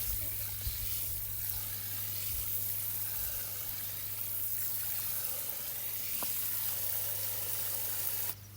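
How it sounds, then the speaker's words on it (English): Water pours steadily into a hole dug in an herb bed for transplanting, a soft continuous splashing rush that keeps going for several seconds at moderate level. "So you're filling up your hole with water."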